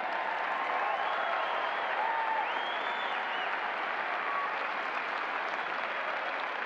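A large crowd at a 2014 conservative conference cheers and applauds, a dense, steady wash of clapping with whoops and shouts rising over it, sustained throughout.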